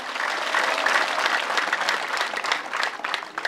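Sustained applause from a church congregation at a gathering, broad and continuous clapping that swells slightly and then eases, heard alone without speech.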